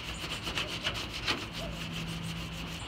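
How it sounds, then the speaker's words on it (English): Hand sanding lightly scuffs a trailer surface before Bondo is applied, a close, rhythmic rasping of repeated back-and-forth strokes at a steady pace over a faint low hum. "I'm not trying to sand through anything, I'm just scuffing up the surface slightly."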